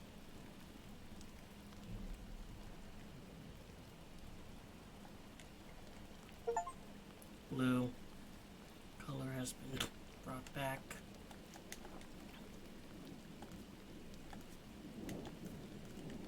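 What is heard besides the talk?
rain in the video game Gris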